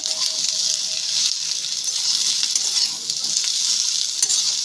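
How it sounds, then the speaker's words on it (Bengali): Sliced ridge gourd hisses and sizzles as it fries in a pan with golden onions and chillies, a dense steady crackle with occasional stirring scrapes, close up and without any voices. "এখন কেটে রাখা ঝিঙেগুলো দিয়ে দিচ্ছি।"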